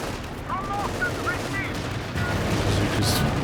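Bazookas fire on a Panther tank in the strategy game Company of Heroes 2, producing dense bursts of battlefield gunfire and booms beneath a commentator's voice, with whizzing projectile sounds scattered throughout.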